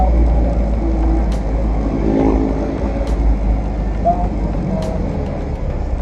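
A car rolls straight through a pedestrian crossing on a street; a steady, loud road-traffic rumble and engine hum run throughout, with faint background voices.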